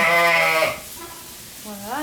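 Vendéen ewes on a farm in Mayenne give loud, close bleats, one long wavering call followed after a pause by another rising bleat.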